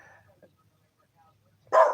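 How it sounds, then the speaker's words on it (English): A dog barks once, loud and close, in a short burst at the very end after near silence. "Sorry about the dog barking,"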